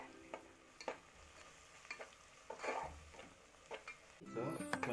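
Ginger garlic paste fries with onions and green chillies in a pan for chicken curry, softly sizzling while a spoon stirs and scrapes in intermittent strokes, fairly faint and steady.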